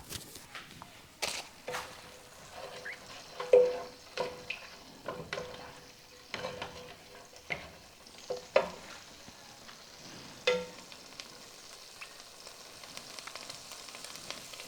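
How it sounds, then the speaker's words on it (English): Chopped onion fries in heated oil for an okra soup, giving a faint, low sizzle broken by scattered stirring clicks and scrapes. No one speaks. "it looks like the oil is heating up. I can hear the sound. You just add the onion"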